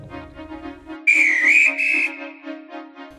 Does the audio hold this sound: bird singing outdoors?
no